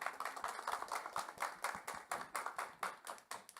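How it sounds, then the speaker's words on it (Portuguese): Crowd applause: brisk, overlapping hand claps in a steady patter, moderately distant, continuing throughout without voices. "Vamos receber com aplausos Alexandre Grelucchi."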